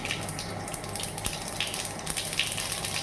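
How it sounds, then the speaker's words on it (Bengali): Cumin seeds crackle and sizzle in hot oil as the tempering for a half-kilo batch of pea ghugni, a dense, steady frying hiss close by with small pops scattered through it and no one speaking. "মটরের ঘুগনিতে জিরে ফোড়ন দেব"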